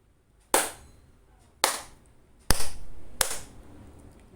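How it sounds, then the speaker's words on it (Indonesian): Four sharp hand claps sound one after another at uneven intervals, close and loud, in a classroom lesson about motion energy turning into sound, with no talk. "Ketika kita bertepuk tangan,"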